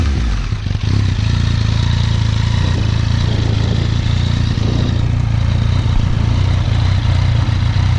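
Yamaha FZ-09 motorcycle with an Akrapovic exhaust and dB killer installed, idling steadily with a loud, deep, even rumble after starting, close up with no talking.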